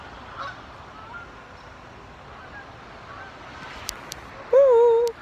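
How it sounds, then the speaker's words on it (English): A single loud goose honk rings out near the end, following several seconds of quiet outdoor ambience with faint distant calls. "Can you see the geese?"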